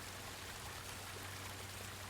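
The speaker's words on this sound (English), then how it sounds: "The water is rushing in and getting deeper, faster, and sloshes so high around your chest now" Water rushing in and sloshing, a steady, dense wash of broadband noise like pouring or streaming water, held at an even level throughout with no voices.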